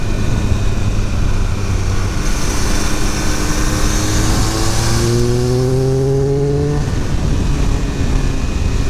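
A Triumph Speed Triple 1200 RR motorcycle accelerates hard and lifts its front wheel, the engine note climbing through rising revs over steady wind roar, loud and close throughout.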